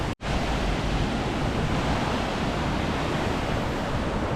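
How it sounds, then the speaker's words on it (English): Aira Force, a high waterfall, roars as a dense, steady wash of broadband water noise filling the whole scene, close and unbroken with no voices. "That is Aira Force. Aira Falls, the high waterfall"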